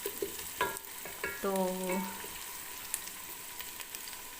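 Ingredients browning in a pan for chicken biryani give a soft, low sizzle, with a few stirring scrapes and clinks up front and a brief spoken word.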